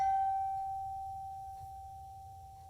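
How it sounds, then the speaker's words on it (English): A gong struck during a Sunday worship service, one steady ringing tone slowly fading with a low hum beneath, no voices. "We ring the gong 3 times."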